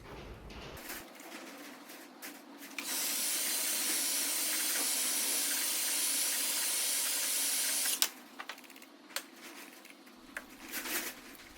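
A long, steady hiss of aerosol spray onto car door paintless dent repair glue runs for about five seconds, loud and close, with a few short clicks and knocks before and after.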